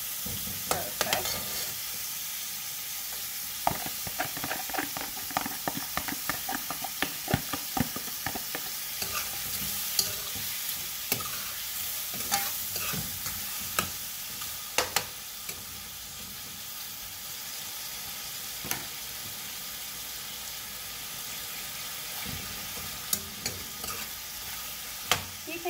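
Haitian spaghetti with shrimp frying in a pan, a steady close sizzle and hiss running throughout with frequent clinks and scrapes of stirring, no talking.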